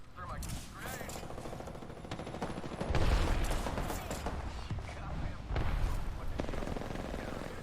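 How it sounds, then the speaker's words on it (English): Dense video game gunfire during a firefight on a bridge, with rapid overlapping shots and bursts swelling louder in places, accompanied by grenade and thermite blasts and game noise throughout. "Opening fire on the enemy."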